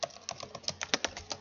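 Quick, light keystrokes on a computer keyboard, a brisk irregular patter of soft clicks heard close up and fairly quiet.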